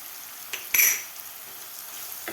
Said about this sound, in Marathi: अद्रक लसूणची पेस्ट आणि कांदा आपल्याला व्यवस्थित परतून घ्यायचा आहे